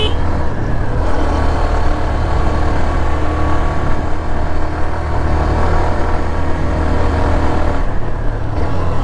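A Hero Xtreme 125R motorcycle rides along a hilly road, its engine giving a loud, continuous drone with slight rises in revs as gears shift, and no voices over it.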